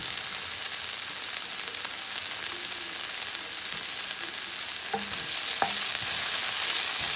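Tuna fish frying in a pan makes a loud, continuous crackling sizzle up close, with a couple of brief clinks near the end.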